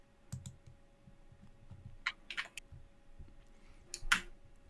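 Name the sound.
computer keyboard typing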